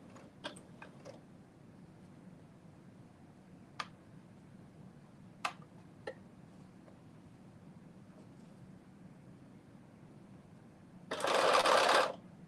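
A sewing machine runs a short back stitch on a reversible bonnet, a loud close burst of rapid stitching near the end after quiet moments with a few sharp clicks.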